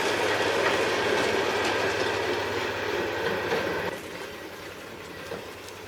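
A railcar speeder rumbles across a wooden trestle with a steady rolling clatter of wheels on rails, moderately distant, easing off slightly toward the end.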